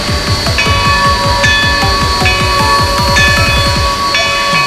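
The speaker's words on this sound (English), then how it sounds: "So the bell sounds like this." A Southern Pacific locomotive bell in the Trainz railway game rings in a steady repeating clang, bright metallic strikes with lingering ring, loud and close over a low rhythmic mechanical chuffing.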